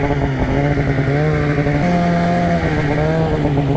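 A Polaris RMK snowmobile engine drones steadily up close with a strong harmonic whine, the pitch holding and shifting slightly as it runs at sustained throttle.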